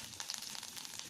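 Crushed garlic frying in oil in a steel pot for tomato rasam gives a faint, steady sizzle with soft crackles and small pops, heard alone.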